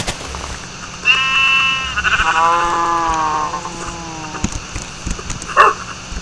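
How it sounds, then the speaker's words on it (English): Several sheep in a video game bleat in a run of clear, wavering calls lasting a few seconds, followed by quieter game noises and a short sharp sound near the end. "Sheep! Why would you go down there?"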